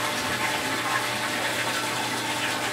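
RODI fresh water pumps into a mixing tank that already holds salt, for a 500-gallon coral reef aquarium. A steady, close, loud rushing and splashing of filling water runs unbroken throughout.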